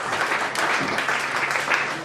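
Comedy club audience at The Comedy Studio applauding and welcoming a comedian, a brisk, full burst of clapping that swells and holds for a couple of seconds.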